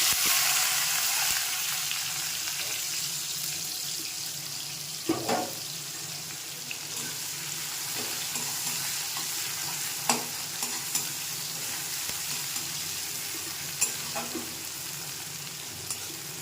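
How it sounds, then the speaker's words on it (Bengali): Sliced onions and nigella seeds fry in hot oil with a constant soft sizzle, while a spatula stirs and scrapes the pan, giving several clear clinks. "দিয়ে দিলাম একটু কালো জিরে, আর দেবো পেঁয়াজ।"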